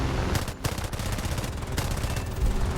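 Rapid machine-gun bursts from an Fw 190 fighter in War Thunder, a dense, continuous rattle of fire with short gaps, loud and close throughout, with no talking.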